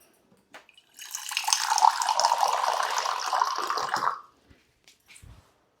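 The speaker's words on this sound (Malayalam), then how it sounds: "ഇനി നമുക്ക് ഇതിനകത്തൊരു 1/2 കപ്പ് വെള്ളം ചേർക്കാം." About half a cup of water pours into a pressure cooker holding mutton liver on the stove, a close, steady splashing rush lasting about three seconds before a few faint clinks.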